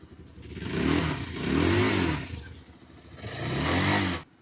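A 2024 Bajaj Pulsar 220F motorcycle exhaust revs in three loud, close swells, each rising and falling with a gap between. No voices are heard.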